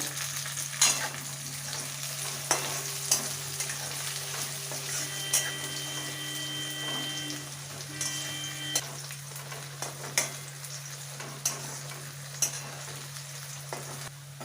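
Onions browning in a pan for mutton jol: a continuous sizzle with repeated spoon scrapes and clinks, a steady low hum beneath, close and with no talk.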